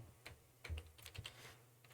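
Typing on a computer keyboard, a handful of quiet, irregular key clicks spread over two seconds with a couple of slightly heavier taps, heard alone without talk.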